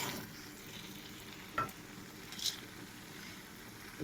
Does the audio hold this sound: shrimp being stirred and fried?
yes